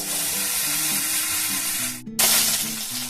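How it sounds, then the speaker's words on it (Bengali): Chopped onions fry in hot oil for a Bengali katla fish and potato curry, giving a steady, loud sizzle with a brief gap as they are stirred, then a fresh burst of crackling. "পেঁয়াজগুলো দেখুন হালকা একটু ভাজা হয়ে গেছে"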